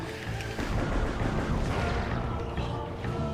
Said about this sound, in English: Get your auto defense turrets, which will shoot your ass down, of course.